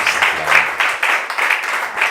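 A church congregation claps for Jesus in a short burst of applause, uneven hand claps rising and falling in waves over about two seconds, with some murmured voices underneath.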